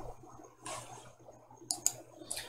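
A few sharp computer mouse clicks close by, spaced over a couple of seconds against a quiet background, while drawing walls in Dungeon Painter Studio map software.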